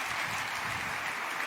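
Audience applause at a Siemens keynote during CES 2024, a dense, even wash of clapping from a large crowd that holds at a constant, fairly loud level throughout.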